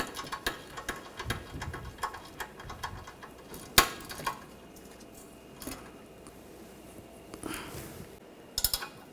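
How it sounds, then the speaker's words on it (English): Quick clicking ratchet strokes from an 18mm ratchet wrench tightening a control arm bolt on a 2004-2009 Audi A4 Quattro, light and close, in irregular bursts with a sharper click partway through and a few more at the end. "Now I'll tighten this down, just using a ratchet wrench, 18mm ratchet wrench, make it a little easier."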